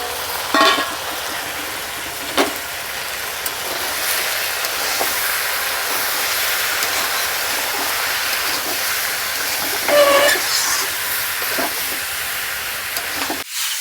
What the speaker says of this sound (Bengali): বৌদি যেভাবে মাংস কষছে